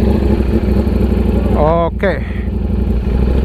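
Ducati Panigale V4 sport motorcycle, freshly serviced, running with a steady close engine drone and a brief throttle rise, while a person speaks briefly over it.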